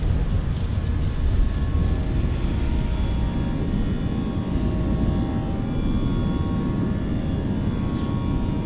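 British Airways A319 jet engines spool up for takeoff in the MSFS 2024 flight simulator, producing a loud continuous low rumbling roar with some faint clicks early on and no audible talk.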